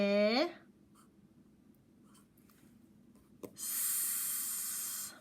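A pencil scratches across paper in a steady, close, continuous stroke, after a brief voice at the start and a short tap.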